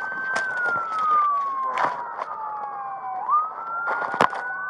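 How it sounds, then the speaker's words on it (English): A wailing police siren sweeps steadily up and down nearby, with clicks and bumps of handling noise over it. "Okay, will you go turn off my siren there?"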